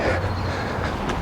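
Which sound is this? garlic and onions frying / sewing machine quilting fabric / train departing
train departing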